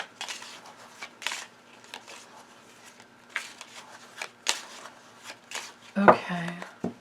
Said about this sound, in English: So let me get the Lenormand shuffled quickly as well.